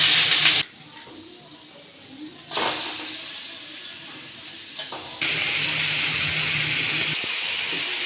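Sugar hits about two spoons of hot ghee in a pan with a sharp sizzling hiss. The hiss comes in loud bursts with quieter gaps and holds steady at the end.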